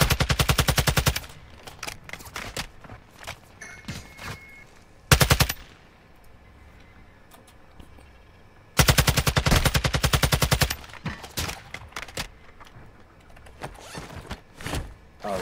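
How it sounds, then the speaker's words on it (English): Automatic gunfire in Call of Duty DMZ comes in loud, rapid bursts: a long rattling volley, a short burst, then another long volley, followed by scattered single shots against quieter background noise. "I'm taking effective fire!"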